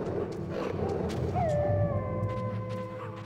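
Wolves in the Metal Gear Solid video game give a long rising howl that trails off and overlaps other faint howls, over a steady rumbling game ambience.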